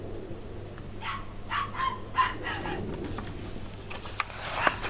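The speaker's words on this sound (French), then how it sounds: "Ça c'est le chien du voisin." A neighbour's dog barks a few times in the distance, faint yips over a quiet indoor background with a low steady hum.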